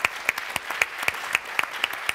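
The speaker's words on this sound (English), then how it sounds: "So can we give them a big round of applause?" Audience applause at a public talk about the Freedom Riders, heard as sparse, distinct handclaps from a small crowd in a steady uneven rhythm, fairly close and clear, with no talking over it.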